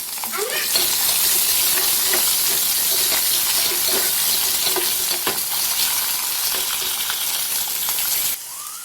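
Cumin seeds, coriander and onion frying in hot oil for palak dal give a steady, close sizzle with scattered crackles and stirring scrapes throughout, ending abruptly near the close.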